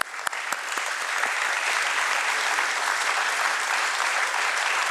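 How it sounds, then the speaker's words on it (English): A crowd at a stock exchange listing ceremony breaks into sustained applause, dense and loud, with a few sharper claps near the start. "So let's give an applause to them."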